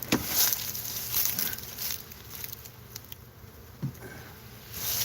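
Low, steady buzzing from a few bees in a hive box drifts under a faint rustle, with a few brief handling knocks; no voices.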